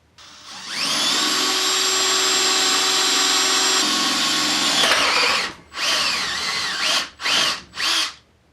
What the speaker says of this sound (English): Well, that worked well, just needed to drill it out.